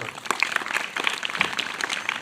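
An audience at a school annual day and Saraswati puja function claps for teachers and parents, a short burst of scattered, uneven hand claps at moderate volume.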